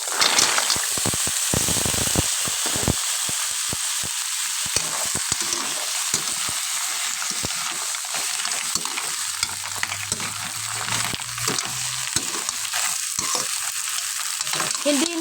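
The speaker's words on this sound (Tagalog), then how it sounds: "ilalagay na po natin ang ating tahong" Mussels (tahong) sizzle and fry in a pan, a loud continuous hiss with crackles and a few stirring clatters, with no voices over it.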